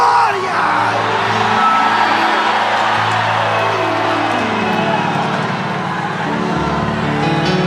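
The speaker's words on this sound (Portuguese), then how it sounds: "Mais um grito de glória!" A church congregation shouts a loud, sustained cry of glory during a sermon, a dense crowd roar of yells and whoops that carries on without a break.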